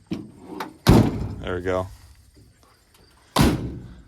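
Heavy doors of a 1961 International Travelall ambulance slam shut twice, loud and close, the bangs separated by a brief spoken remark and quiet shuffling.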